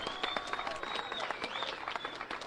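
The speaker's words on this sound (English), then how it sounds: "listen how they're all clapping" Crowd applause from a played recording, continuous dense clapping that stays level throughout at moderate distance, with faint voices mixed in.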